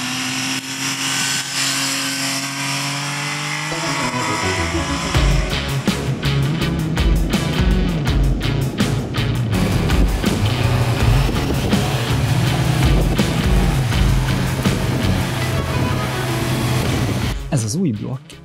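A 2021 Yamaha MT-09 motorcycle engine hums steadily, then kicks into a louder rough running roar that continues close by before cutting off abruptly.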